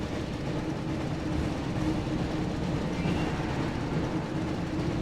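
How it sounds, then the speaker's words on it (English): A train rumbles past in the PS1 Harry Potter and the Chamber of Secrets game, a dense continuous roar of wheels on rails with clattering texture, loud and close for the whole stretch. "Looks like we found the train, Ron."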